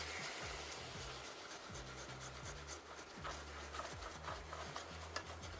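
A whisk scraping steadily through heavy cream being stirred into a flour roux for Cajun shrimp pasta, a soft continuous rubbing rasp with repeated low strokes, fairly quiet and close, with no talking.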